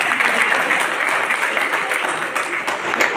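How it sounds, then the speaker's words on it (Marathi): Loud, close applause from an audience at a women's empowerment camp event in Chandrapur, a continuous crackle of many clapping hands with no speech over it. "टाळ्या होईल."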